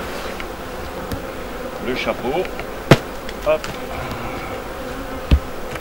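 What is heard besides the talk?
honeybees buzzing around hive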